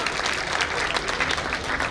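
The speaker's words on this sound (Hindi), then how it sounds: "तो एक बार जोरदार तालियां बजा दीजिए हमारी सारी बेटियों के लिए." Audience applause at a college annual function in Jaipur, a dense, even roar of many hands clapping heard on its own.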